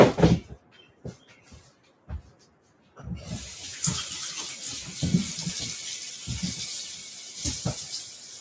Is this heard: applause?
no